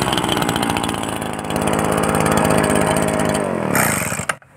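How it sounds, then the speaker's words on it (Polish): A small two-stroke leaf blower engine runs steadily at high revs with a buzzy, rattling drone, then cuts out abruptly near the end. "No, tradycyjnie dźwięk silnika"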